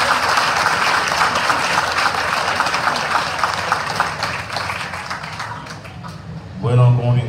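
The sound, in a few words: loud applause at priestly ordination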